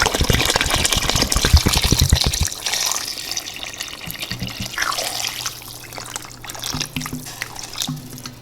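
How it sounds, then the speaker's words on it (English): A pot for collard greens with ham hocks is filled from a kitchen tap, with a strong gushing stream at first, then the flow changes and thins into trickling, splashing and drips with a few metallic knocks. "as soon as I get this filled with water"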